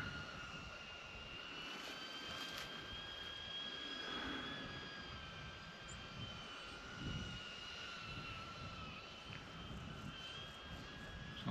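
A DJI Avata FPV drone flying nearby, giving a steady high whine with thin rising and falling motor tones over a constant airy rush.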